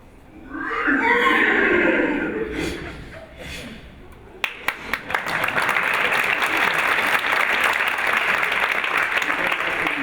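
Human voices mimic a horse's whinny with a rising, quavering neigh, then a burst of clapping and applause fills the rest.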